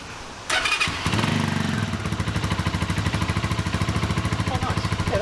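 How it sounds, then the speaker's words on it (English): Keeway Superlight 125 cruiser motorcycle with twin exhaust starting up, then settling into a steady, loping idle with a rhythmic, pulsing thump, close and clear after a brief quiet start. "that twin exhaust definitely makes a difference. You can hear it coming out twice"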